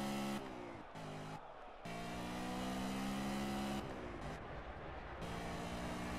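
BMW GT4 race car engine in the video game Project Cars, a loud, close engine revving and climbing through gears, with sharp pitch drops at each shift and a long sustained pull in the middle.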